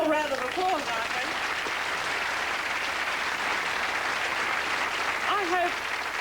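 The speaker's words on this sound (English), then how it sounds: "Oh, a little round of applause, I think." A studio audience on a comedy talk show breaks into sustained applause, a dense, even wash of clapping that fills the room, with a voice speaking briefly at the start and again near the end over the clapping.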